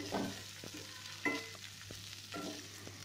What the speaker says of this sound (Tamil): எல்லா காயிலையுமே இந்த மசாலா நல்லா கோட்டிங் ஆகிற மாதிரி இதை நல்லா இப்போ வதக்கி விட்டலாம்.